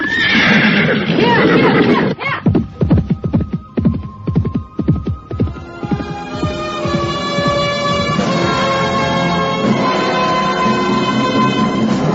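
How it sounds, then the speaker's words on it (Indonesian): A horse neighs loudly up close, then rapid hoofbeats clatter in a fast run before fading under a low throbbing hum and music, in a palace-era audio drama. "Tangannya bekerja dengan cekatan, melepaskan tali salah seekor kuda."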